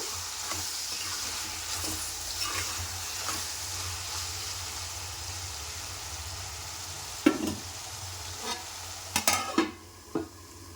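Tomatoes with a spoon of salt cooking in a pan for radish curry, a steady soft sizzle with occasional spoon clinks and scrapes, louder knocks near the end.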